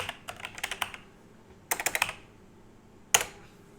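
A computer mouse clicking while browsing for a manuscript file to upload for self-publishing, with short rapid bursts of clicks, a pause, another quick cluster, then a single sharp click, close and clear.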